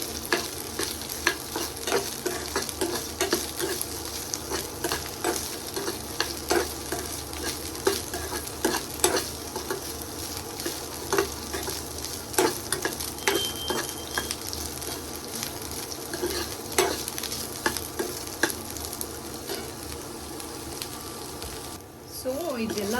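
Field beans (challavarekayi) fry in oil for a North Karnataka palya while a spoon stirs them, giving a continuous sizzle broken by repeated scraping strokes against the pan, with a voice briefly heard now and then.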